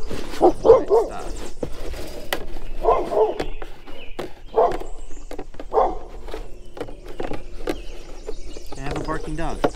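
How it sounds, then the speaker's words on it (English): Dog barks ring out repeatedly in short bursts, fairly close, over a busy noisy background. "Barking dog."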